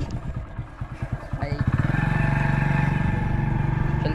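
A motorcycle carrying three riders heads through an Indian village toward Niwari, its engine a steady, close, continuous drone, rough and pulsing at first as it picks up speed.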